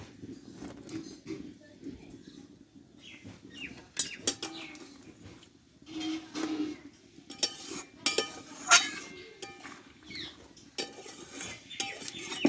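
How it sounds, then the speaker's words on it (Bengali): Carrot dumplings are poured into a pot of boiling milk with jaggery, producing scattered clinks of utensils, soft splashes and stirring clatter at close range, with light background noise throughout. "এবার আমি পুলিগুলোকে ঢেলে দেব"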